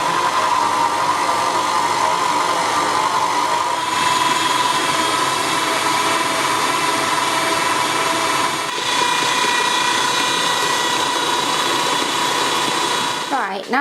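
KitchenAid stand mixer whirring continuously at high speed, a loud steady motor drone that shifts slightly in tone partway through before stopping abruptly at the end.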